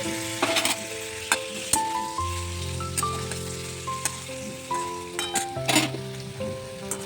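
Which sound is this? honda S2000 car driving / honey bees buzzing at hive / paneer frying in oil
paneer frying in oil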